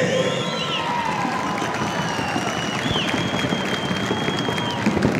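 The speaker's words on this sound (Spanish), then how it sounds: "Fuerte el aplauso." A crowd at a Paso Fino horse show applauds steadily with scattered cheers and whistles, a dense continuous clapping that stays loud for several seconds.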